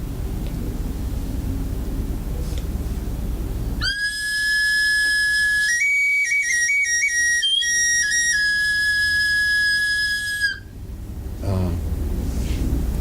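A small three-hole whistle flute plays a high, clear tone, moving between a few pitches in steps for about six seconds before stopping, heard alone against a quiet room.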